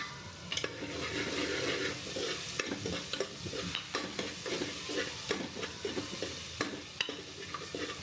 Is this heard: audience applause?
no